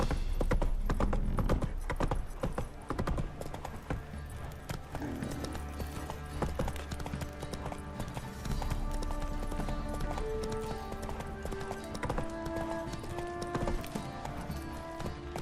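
The horse Roach gallops in The Witcher 3, steady rhythmic hoofbeats under a bed of game music, close and continuous.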